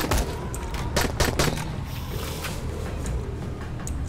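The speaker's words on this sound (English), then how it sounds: "Shoot them if you please. Oh, it's a 24 bullet gun." Gunfire from a 24-round gun in the co-op zombie game Dying Light: quick bursts of close, loud shots clustered early, then scattered single reports over a busy game background.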